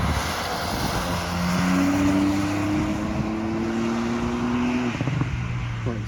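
A Ford Focus lapping the Nürburgring, its engine a loud, sustained drone climbing in pitch through the gears, with a distinct shift near the end before it pulls on again.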